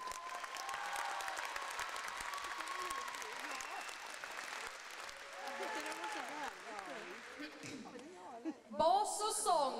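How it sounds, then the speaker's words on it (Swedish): Sustained crowd applause at a music festival in Halmstad, a dense steady clatter of many hands, fading toward the end as a voice speaks over it. "En applåd till."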